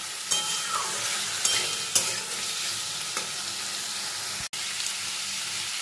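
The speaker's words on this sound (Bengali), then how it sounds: "কচু আর আলুটা দিয়েও আমি এই মশলার সঙ্গে ভালো করে কষিয়ে নেব।" Taro and potato sizzle and fry with ginger-green chili spice paste in a pan, stirred with a few scraping strokes over a steady close hiss, no talk.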